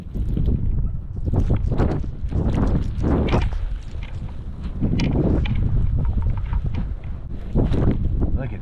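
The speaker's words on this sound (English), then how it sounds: "Waiting for one of these big gusts to come." Strong winter blizzard wind gusting hard against the microphone in Norman, loud roaring bursts that swell and fade over and over.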